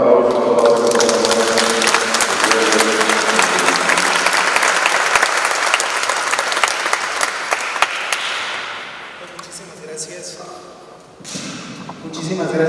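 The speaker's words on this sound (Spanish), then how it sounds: "le damos un fuerte aplauso a toda la" Loud, dense applause from a church congregation in Spanish, filling most of the clip and then thinning out and tapering near the end.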